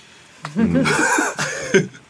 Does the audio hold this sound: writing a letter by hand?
no